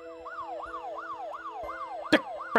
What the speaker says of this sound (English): the siren's going off, there's the exit